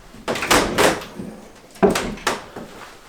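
Closet doors in an empty house close in two quick pairs of scraping, thudding sounds, close by and with a short pause between the pairs.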